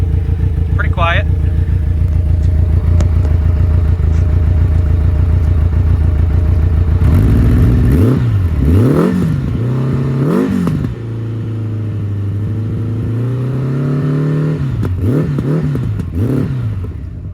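Kawasaki Voyager XII 1200 motorcycle with custom exhaust mufflers, a steady close idle that breaks into several swelling revs and falls back, with a short pause of lower idle between bursts.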